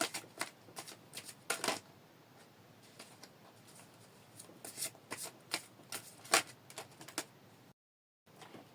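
Oracle cards are shuffled by hand before one is drawn, giving repeated crisp close riffles and slaps with a brief silence near the end and no speech.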